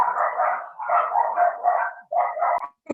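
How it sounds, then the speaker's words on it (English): Puppies at an animal shelter barking, a run of repeated high yappy barks in quick bursts, fairly close and clear, with short gaps between. "normally I would say if you hear puppies in the background, those are the puppies at our shelter"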